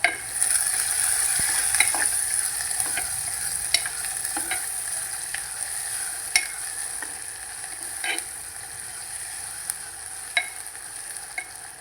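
Food sizzles steadily in a hot pan as a ground paste and onion are stirred, a utensil scraping and clinking against it at irregular intervals.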